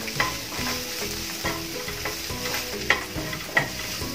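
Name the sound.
sautéing masala with vegetables in a pan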